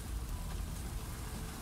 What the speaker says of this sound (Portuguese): Ih, chegou a chuva, rapaziada.